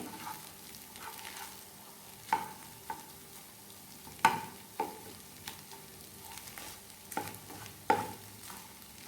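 Cooked rice being stirred and broken up for egg tava pulao in a pan, a steady quiet scraping and shuffling with soft sizzle beneath and several sharper clacks of the spatula against the pan, no voices.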